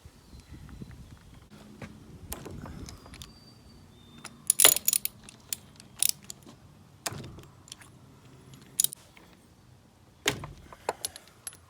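Spark plugs being pulled one by one from a three-cylinder 2-stroke outboard motor during boat winterizing: scattered metallic clinks, ratchet clicks and handling noises, sharp and close, with quiet gaps between.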